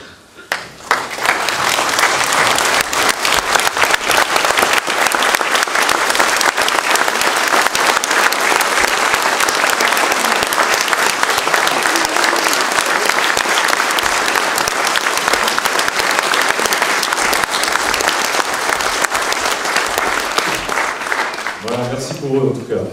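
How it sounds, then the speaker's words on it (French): A standing audience applauds in tribute, a loud, dense and steady wall of clapping that holds for over twenty seconds before quickly dying away near the end. "je vous propose tout simplement de vous lever et de les applaudir."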